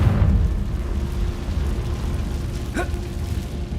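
A Confringo fire spell explodes in Hogwarts Legacy with a rumbling low boom at the start that fades into a fiery roar, followed by a brief rising whoosh.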